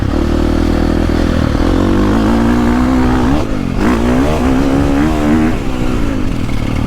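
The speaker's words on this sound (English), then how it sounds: "like a KTM, it just keeps making power as you rev it." A 2022 KTM 450 Factory Edition motocross bike roars loudly and close while being ridden, its engine note rising and dipping through repeated revs and throttle blips.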